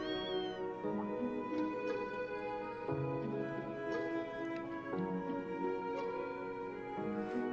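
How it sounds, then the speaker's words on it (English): A cat meows in the video game Tokyo Xanadu eX+, a series of drawn-out, plaintive mewls over steady game background music, with no talking. "Ah, it's a cat in a box."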